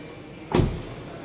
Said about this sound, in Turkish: Kapı açma kapama sesleri de hiç fena değil.